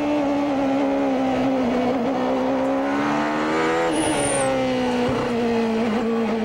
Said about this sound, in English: Listen to his throttle.